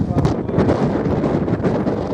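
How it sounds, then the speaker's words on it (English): Wind buffets a camera microphone on the Cheviot hillside in the Northumberland hills near Wooler, a steady broadband roar with uneven gusty swells that continues without a break. "Probably tell by the sound of the camera it's rather windy"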